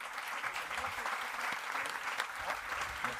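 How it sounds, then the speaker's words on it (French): A short burst of steady audience applause greets a startup team called onto the stage at an innovation evening, with moderately loud, dense clapping and no voices over it. "On les applaudit déjà."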